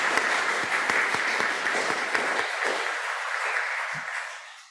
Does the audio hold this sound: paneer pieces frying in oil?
no